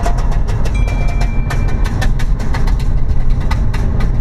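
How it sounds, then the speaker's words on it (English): Exhaust valves rattle on a BMW F80 M3 with stock intakes, an aftermarket midsection and a stock rear box, a loud, steady engine drone broken by rapid, repeated metallic ticking clatter up close. "our valves are rattling something like this"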